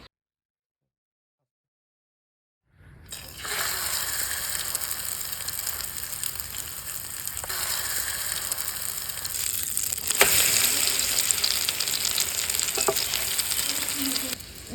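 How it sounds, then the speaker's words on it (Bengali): An egg-dipped flour paratha hits hot oil after a moment of silence, bursting into a loud, continuous crackling fry with occasional spatula scrapes and clicks. "এবার দিয়ে দিচ্ছি পরোটা গরম তেলে"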